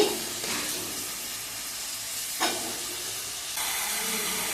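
Onions and tomatoes with salt and turmeric fry loudly in hot oil, a continuous close sizzle and hiss with stirring scrapes and a brief rise in the bubbling partway through.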